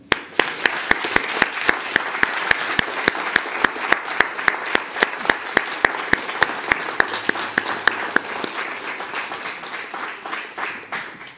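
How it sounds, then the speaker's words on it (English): Audience applause at a Christmas concert, a steady run of many overlapping claps from a crowd that holds for about eight seconds and then thins and fades toward the end. "I think they all deserve a, a round of applause."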